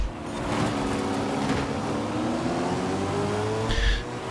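BMW M3 GTR race car in Forza Horizon 5 with its wheels locking up under hard braking, a loud continuous engine drone with tire squeal and skidding, ending in a brief burst of noise near the close.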